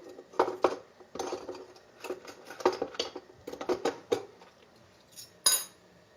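Metal spoons are picked up and handled at close range, knocking and clinking together in irregular bursts of light, bright taps with short quiet gaps between them.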